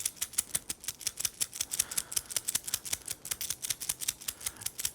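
The metal bracelet of a Seiko Prospex GMT watch rattles in quick, fine clinking bursts, a close, quiet jingle of loose links shaken continuously, with no talk.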